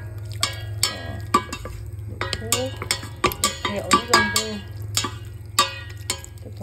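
Seaweed is stir-fried in perilla oil in a pot for Korean beef seaweed soup, with a spoon scraping and clinking in uneven strokes over a low steady hum, while a person speaks briefly.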